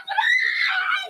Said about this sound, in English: that's a lot of screaming